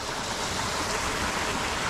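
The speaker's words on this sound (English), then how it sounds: "Beautiful running fresh water." Fresh, clean water running along a stream in the hot Australian outback, a steady, full rushing wash with no pauses, heard close and alone without voices.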